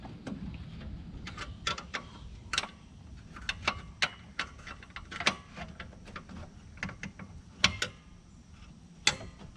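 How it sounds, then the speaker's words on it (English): A 10 millimeter wrench loosens bolts on the AC condenser of a 2002 Cadillac Escalade, producing scattered sharp metallic clicks and ticks at irregular intervals, close but fairly quiet, with no talking. "I just used a 10 millimeter wrench to loosen them up"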